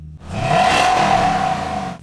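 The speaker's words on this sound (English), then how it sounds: "there's a slight V8 sound, but it's totally muffled" A muffled V8 engine in a wrecked car being turned into a drift car revs steadily with a buzzing drone, holding a sustained pitch for about two seconds before cutting off.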